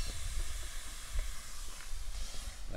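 Water poured onto a hot iron ring fitted on wood at a sawmill, giving a soft steady hiss with faint crackles, fairly quiet and alone with no talk.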